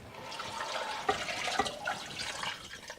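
Water poured into a soup maker with vegetable stock, a close, continuous liquid splash and trickle with small drips, steady in level throughout.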